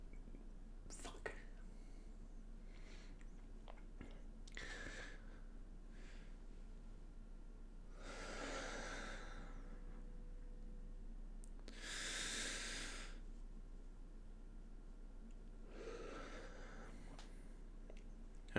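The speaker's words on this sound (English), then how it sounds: "that's a breathing exercise I've been taught for moments where you can feel sort of a physical manifestation of stress on your body" Several slow, deep breaths taken as a stress-relief breathing exercise, each a soft airy rush of inhale or exhale spaced a few seconds apart, close and fairly quiet against a faint steady hum.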